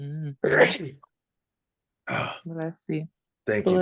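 One person sneezes sharply once between short stretches of conversation during a trading discussion, a single loud burst heard up close among other speech.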